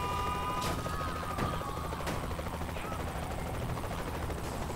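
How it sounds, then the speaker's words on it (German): Helicopter in the video game Saints Row: The Third, a steady loud rotor and engine drone filling the whole stretch, with a few sharp bursts like gunfire cutting through. "und ich muss mit dem Hubschrauber hinter dir her"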